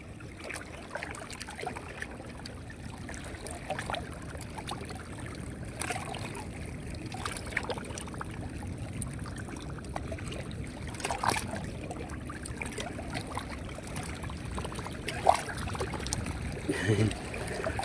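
A fishing popper lure is retrieved through salt water, giving faint repeated splashes and trickling water sounds with small clicks and bursts, heard from a distance in a quiet outdoor setting.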